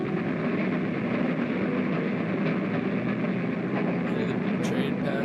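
A train passes in the classic horror serial The Phantom Creeps, a loud, continuous rumbling roar that fills the whole stretch without a break.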